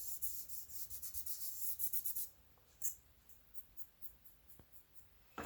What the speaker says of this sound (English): I can actually color on my finger and then rub it on like that.